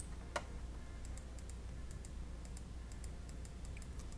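Computer keys are pressed for Photoshop shortcuts: one sharp click, then a run of light, evenly spaced taps at close range over a faint steady low hum.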